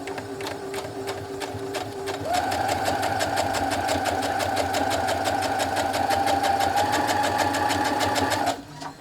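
A sewing machine runs steadily as it stitches a quilt block along a marked line, its rapid even needle rhythm starting softly then picking up into a louder continuous whir before stopping near the end.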